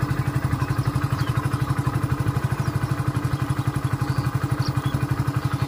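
A motorcycle engine idles close by with a steady, fast, even putter that holds the same pace throughout.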